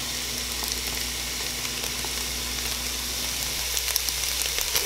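Peppers, celery and garlic sizzle steadily in a soup pot for a corn and potato chowder, a continuous close frying hiss with faint crackles, heard alone without talk.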